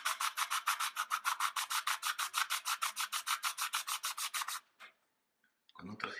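Fine sandpaper rubs steadily over the varnished comb of a Marine Band harmonica, about twenty-five close, even back-and-forth strokes in a brisk rhythm, then a short pause and a few softer scrapes.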